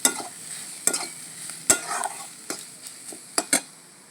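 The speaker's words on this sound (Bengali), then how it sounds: "এক মিনিট আমি ভালোভাবে ভেজে নিয়েছি" Cauliflower stalks with a little turmeric fry in a pan while a spatula stirs them, making sharp irregular scraping and clacking strokes over a soft background sizzle. It sounds close, with no speech.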